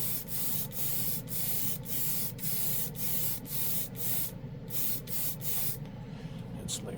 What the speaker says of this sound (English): we're going to flash this off with the airbrush